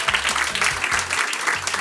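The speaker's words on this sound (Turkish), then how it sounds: "Alkışlayalım ekstreme." Audience applause at a quiz night show, dense clapping throughout under a voice talking at the same time.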